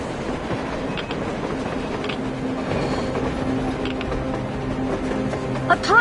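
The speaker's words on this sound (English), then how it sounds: "A train! A damn train on the surface!" A train rumbles along the surface in the video game Metro Exodus, a loud continuous rolling drone with faint clacks and a brief squeal near the end.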